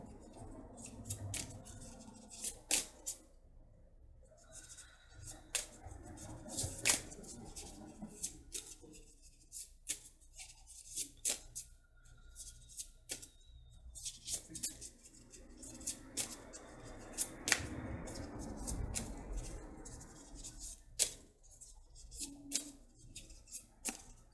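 Soft, close papery riffling and clicking in irregular bursts, tarot cards being shuffled quietly with occasional taps against a hushed background.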